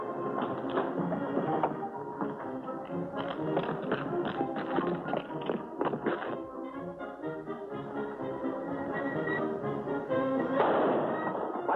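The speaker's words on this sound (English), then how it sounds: "What's the shooting about?" Gunshots in a radio drama about a hideout being stormed, sounding as a series of sharp reports mixed with music and effects, sustained and fairly loud throughout.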